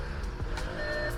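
An Audi Q5 with major front-end damage starting up, a short burst of engine cranking and catching into a low idle rumble, close and fairly loud.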